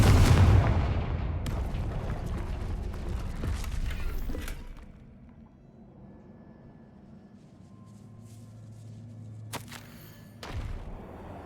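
A Confringo blasting spell explodes in the video game Hogwarts Legacy, a heavy rumbling boom up front that decays into a quieter hum, followed later by a sharp short crack.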